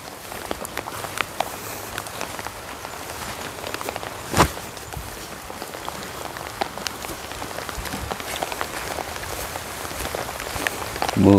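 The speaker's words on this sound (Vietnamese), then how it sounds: "Mưa quá chừng" Heavy rain falling outdoors beside a ditch during frog trapping, a dense continuous patter of drops striking surfaces, close and steady, with one sharper thud partway through.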